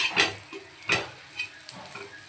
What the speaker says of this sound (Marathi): भाजून घेऊया मसाला जास्तही काळा आपल्याला होऊ द्यायचा नाही आहे